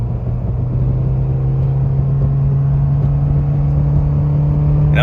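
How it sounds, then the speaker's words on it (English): Mitsubishi Evo X with an SST transmission holding high revs in second gear, a loud steady engine drone with a strong low tone that rises slightly in pitch over a few seconds, with no talking. "as you can see, I'm still getting high in my RPMs"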